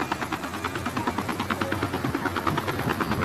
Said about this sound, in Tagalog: Papakita ko ngayon ang malipit ang pag-drive ng helicopter.